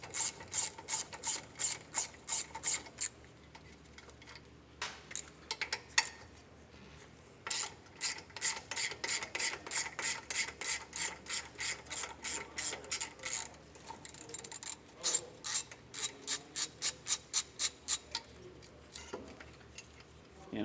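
Ratchet wrench removing bolts from the rear sway bar of a 2023 Jeep Gladiator, close rapid clicking in repeated bursts with brief pauses between strokes, continuing for about twenty seconds.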